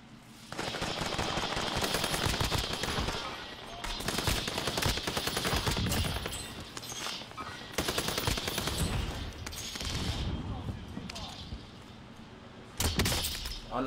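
Rapid gunfire in Call of Duty Warzone on a dockside map, sustained loud bursts of automatic shots with short gaps between them, close and dense throughout.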